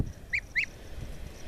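A pet goose calls outdoors on a sunny day, two short nasal honks in quick succession, fairly close and clear over a quiet background with no voices.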